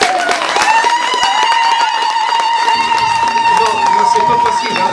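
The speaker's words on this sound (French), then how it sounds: "et applaudissements bien sûr" An audience at a Moroccan Amazigh film festival claps in a steady wash of applause beneath a sustained, high voice or ululation.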